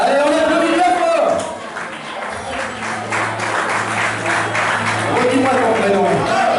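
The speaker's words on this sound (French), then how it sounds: "Allez, on applaudit bien fort." Audience applauds a volunteer called up onstage at a live Chinese linking rings magic show in Chemilly, steady dense clapping that swells and fades, with a low hum and faint voices underneath.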